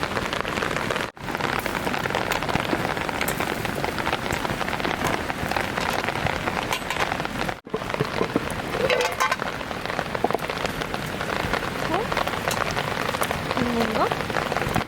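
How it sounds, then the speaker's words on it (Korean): Heavy rain pours steadily over a forest campsite, a dense, loud hiss of drops on surfaces close by that barely lets up, with faint sounds of someone moving around beneath it. "지금 갑자기 비가 엄청 많이 내리기 시작했어요."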